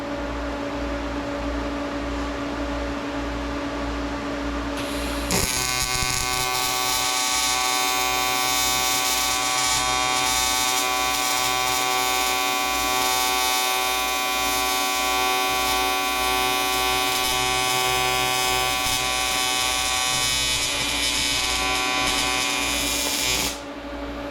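An arc welder joining aluminum AN fittings, a loud continuous buzzing hiss that starts abruptly and holds steady for about twenty seconds before cutting off, with no talking over it.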